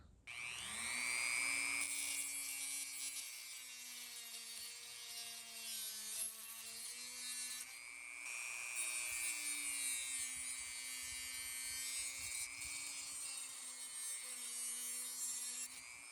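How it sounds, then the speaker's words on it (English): A small high-pitched rotary tool whines steadily while cutting the rear bumper of a 3D-printed toy car, its pitch dipping and rising as it bites into the plastic, close and continuous. "So I'll cut the rear bumper, like I'll cut it right here."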